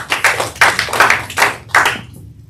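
A small audience at a speaking workshop claps in a few short, uneven bursts that come and go over two seconds, close and fairly loud, with no talk over it.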